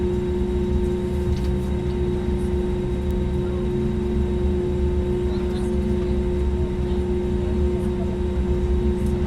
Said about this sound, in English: Norwegian Airlines 737 making its way out